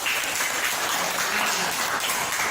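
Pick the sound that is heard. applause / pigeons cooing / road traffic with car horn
applause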